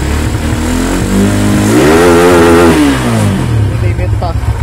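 A Sigma 250 motorcycle engine fitted with a touring camshaft revs up close by, climbing sharply in pitch and then dropping back to a steady idle, with someone talking over it.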